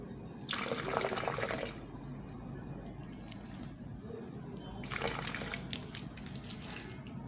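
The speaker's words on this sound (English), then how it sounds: "So I'm going to be adding some water." Water is poured in while a tigernut drink is being made, in two separate bright splashing gushes with a quiet pause between them. The sound is fairly faint and close.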